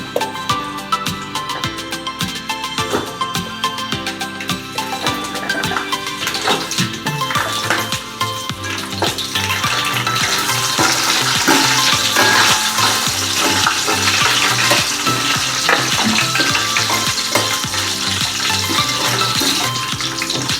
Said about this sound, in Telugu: కాస్త ఫ్రై అయ్యాక ఆనియన్స్ని ఇట్లా ఘాటు పెట్టి తీసుకోవాలి